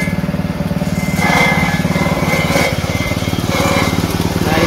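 Homemade coconut husk processing machine driven by a small bought engine chugs loudly and close with a steady rapid pulse and slight surges in load, without talk.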